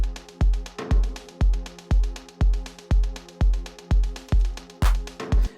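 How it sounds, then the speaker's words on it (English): A melodic techno loop plays alone: punchy kick drums thump on a steady four-on-the-floor beat beneath sustained synth tones and crisp hi-hats. "so it's quite techno sounding or melodic techno sounding."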